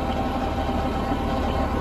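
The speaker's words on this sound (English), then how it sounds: "As you can see, the PTO is just still running" A Landini tractor idling with the PTO engaged and running, a steady close rumbling drone with a faint mechanical whine; no talking.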